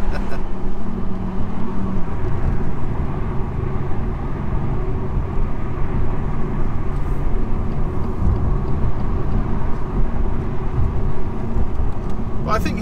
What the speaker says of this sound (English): I think in terms of sound for a stock car, it sounds pretty good.